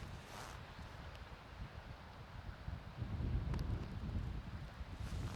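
Strong wind blowing around a hillside by a Hilleberg Soulo tent in gusts over 60 mph, a steady low roar with buffeting microphone rumble that grows heavier partway through; no voices.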